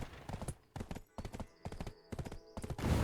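Horse hooves clip-clopping at a riding pace in Black Desert Online, near the edge of Heidel, a steady run of hoof beats in quick bursts with brief gaps, with a faint whinny-like tone in places.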